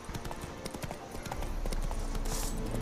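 The horse Roach galloping in The Witcher 3, rapid rhythmic hoofbeats drumming on the ground, close and steady, with the pace building toward the end.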